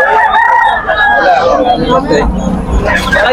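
Young gamecocks (stags) crow loudly at a fowl market in Calumpit, Bulacan, several overlapping crows rising over a background of chatter and market babble.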